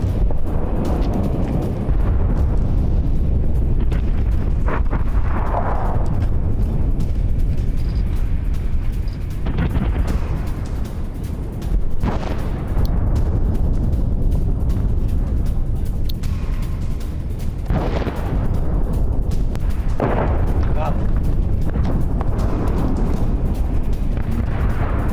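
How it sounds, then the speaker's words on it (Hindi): Heavy explosions from Israeli strikes in residential areas of southern Lebanon: a loud, continuous rumbling roar with several dull booming blasts spaced through it, carried by wind noise on the microphone. "रिहायशी इलाकों में भारी धमाकों से दहशत"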